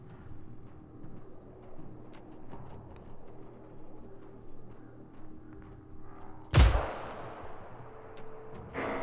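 A single loud burst of gunfire in the video game Generation Zero cracks out over quiet, low ambient hum, with a smaller thump following near the end.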